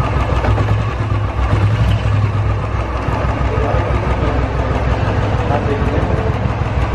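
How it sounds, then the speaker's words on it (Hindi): Royal Enfield motorcycle engine idling up close, a loud steady thumping rumble with a dense rapid mechanical chatter running throughout and no clear talk over it. "सुनिए गाड़ी की आवाज़ और बताइए मुझे कोई आवाज़ आ रही है या नहीं"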